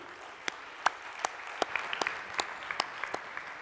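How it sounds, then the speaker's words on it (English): Audience at a conference summit applauding panelists, a thin scattering of distinct claps at an irregular pace, fairly faint in a quiet hall. "maybe we can have another round of applause to our 4 panelists"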